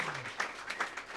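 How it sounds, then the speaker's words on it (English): Scattered applause from a community forum audience after a panel discussion, a brief, fairly faint patter of clapping at a distance. "A round of applause."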